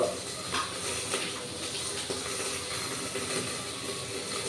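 Water is poured into hot oil holding a fried spice tempering and mango pieces for a sour prawn and vegetable tok, setting off a loud, close, continuous steamy hiss and sizzle that lasts throughout.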